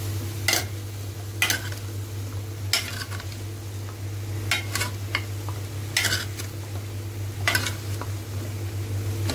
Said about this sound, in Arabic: هنشيل بقى الغطا ونبتدي نقلب الباميه